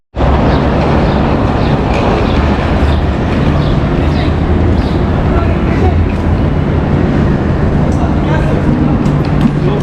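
A train at Zurich station in Switzerland rumbles with a loud, steady low drone throughout, with station noise and people talking over it.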